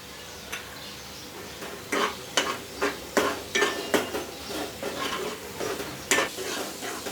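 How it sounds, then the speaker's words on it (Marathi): Green masala paste with chilli powder and garam masala sizzles in oil for shuka chicken while a utensil stirs and scrapes against the pan in steady, repeated strokes, close and clear with no talking. "इथे आता आपण मसाले जे घातलेले आहे ना, छान तेल सुटेपर्यंत आपण ते परतून घेणार आहे"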